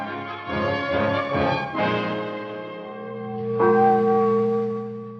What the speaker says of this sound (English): Church bells herald the battle's end.